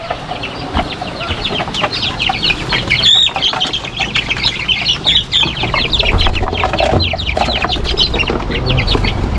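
Many chickens cluck and squawk together, close by and continuous, with occasional wing flaps among the flock, being fed corn.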